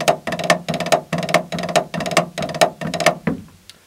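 Snare drum playing fast five-stroke rolls with alternating leads, a steady run of about eight quick, crisp bursts at close range, ending in a short fading ring.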